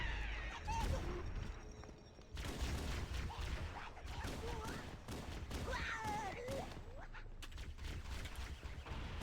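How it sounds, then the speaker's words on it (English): Grenade blasts and gunfire in Halo CE Anniversary during a heroic speedrun, a busy layered barrage of booms and shots with game voices in the mix. "toss a grenade right there"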